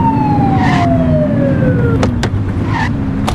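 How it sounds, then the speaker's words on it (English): A police car siren in the video game The Precinct wails with a steady descending sweep, loud and continuous over a rumbling vehicle engine. "Get on their tail and flip the siren."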